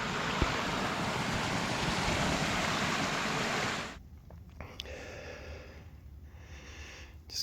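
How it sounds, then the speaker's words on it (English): Flowing mountain creek on a spring hike to a waterfall, a loud broadband rushing of water close by for about four seconds before it abruptly drops away to quieter outdoor ambience. "Just coming away from the creek here."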